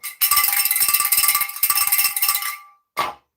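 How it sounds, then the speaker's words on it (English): A hand bell rings in rapid repeated clangs for about two and a half seconds, bright and close, then stops and gives one more short shake. "And I'll ring the bell"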